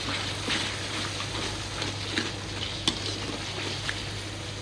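Chili sizzling and frying in a wok for spicy fried crab, a steady crackling hiss with a few sharp clicks from stirring or a spatula, close and untouched by talk.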